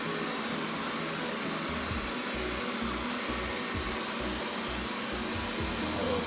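A Xiaomi robot vacuum runs with a steady, airy whir and a low motor hum that rises and falls slightly as it moves, heard alone and fairly quiet.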